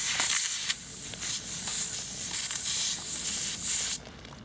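Air hisses loudly and steadily from a tire valve as a J.T. Brooks automatic tire deflator is screwed on, the spray-like rush dipping briefly at moments before cutting down sharply near the end.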